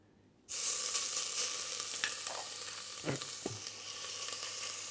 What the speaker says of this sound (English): Enough to actually fry the paste well